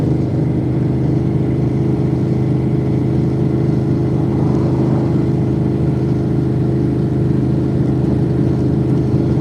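A loud car cruises on the road between Orlando and Gainesville during the Sick Week 2026 drag-and-drive event, its engine a constant heavy drone with steady low rumble and road noise filling the whole stretch.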